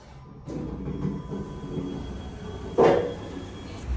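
A train rumbles past nearby with a steady low roar, broken by a louder metallic clatter partway through.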